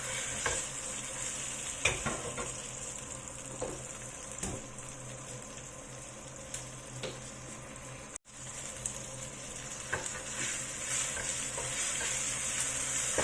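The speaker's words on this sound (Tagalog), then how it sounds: "I-caramelize lang natin yung asukal para masarap siya." Sugar caramelizes in a pan for a chicken feet dish with a steady, fairly quiet sizzle and bubbling, broken by occasional soft clicks and taps of a utensil.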